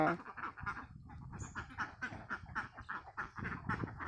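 Confined farm ducks quack repeatedly in a busy, overlapping chorus, close by and fairly loud, with no talking.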